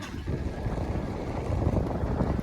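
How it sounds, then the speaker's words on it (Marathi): Light wind blows across Revas fishing harbour where fishers work with traditional nets, a continuous low rumble buffeting the microphone with no voices. "आणि आता तरी थोडा वारा आहे तो कमी आहे"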